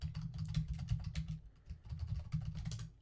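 Fingers tap out a quick, uneven run of keystrokes on a computer keyboard, close and clear, with a short pause midway and no talking.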